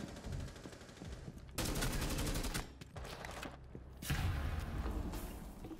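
Rapid automatic gunfire from a tactical shooter video game, several dense bursts and sustained volleys in close succession, loud and continuous, with no talk over them.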